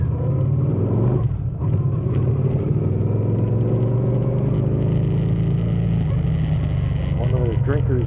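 2013 Suzuki Boulevard M50 motorcycle engine rumbling steadily while riding, a continuous low drone with wind noise, recorded close from the helmet and saddlebag.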